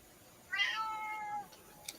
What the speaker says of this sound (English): that cat's fucking mental